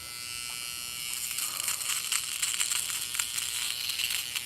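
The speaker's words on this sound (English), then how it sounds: "My nose hair trimmer." Electric nose hair trimmer buzzing close up, a steady high-pitched whir that starts softly and then runs continuously with small crackling fluctuations, heard alone without talk.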